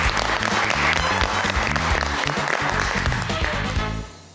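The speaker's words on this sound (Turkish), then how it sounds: "Alkışlayalım." Loud, sustained applause from a studio audience on a cooking competition set fills the room steadily before cutting off near the end.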